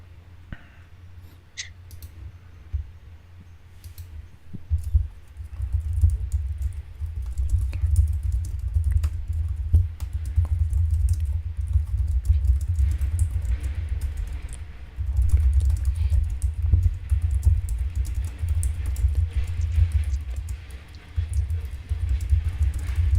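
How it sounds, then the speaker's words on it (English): Fast, intense clicking of a computer keyboard as someone types continuously at close range, over a low steady hum that starts a few seconds in. "I can hear the intense typing in the stream."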